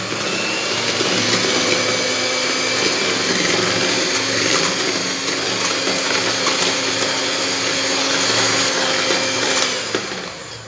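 An electric blender whirs steadily and loudly for about ten seconds mixing yogurt and sugar for cake batter, a continuous motor drone that winds down at the very end.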